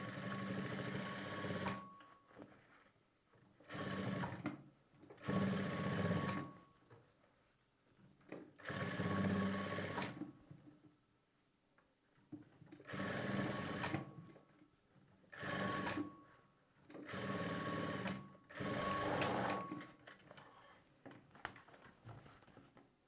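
A sewing machine stitches a patch onto the back neck of a blouse in repeated bursts of whirring, each lasting a second or two with short quiet gaps between, close and steady.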